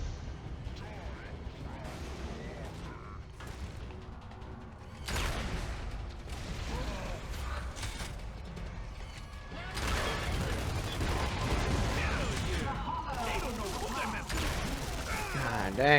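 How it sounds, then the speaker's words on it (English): Mortar firing in the Gears of War 2 video game, heavy booming blasts and rumbling explosions mixed with gunfire across a chaotic battle, with voices talking over the action at times. "That mortar is still kicking there."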